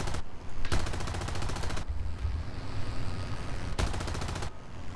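Rapid aircraft cannon fire during an F-14 dogfight in a video game, loud sustained bursts of machine-gun chatter over a steady roaring drone, with brief pauses between volleys.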